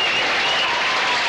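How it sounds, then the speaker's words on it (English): A large, excited crowd at the 1983 football grand final between West and Sturt roars and applauds in a dense, continuous wash of sound throughout the brief moment. "Section of the crowd there, very, very excited today."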